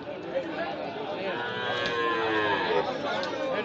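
A Sahiwal bull lows at a busy cattle market, a few drawn-out moos rising clearly over a constant crowd murmur and background chatter.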